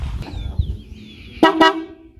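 After a low idling rumble, a jeepney's traditional horn gives two short, loud, close blasts in quick succession.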